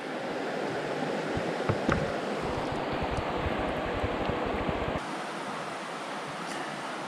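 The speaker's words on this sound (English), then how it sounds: "I'm gonna come down to the creek and fill up real quick" Steady broadband rush of a creek flowing in the Pennsylvania Laurel Highlands, close and continuous, with no talking over it and a slight drop in level partway through.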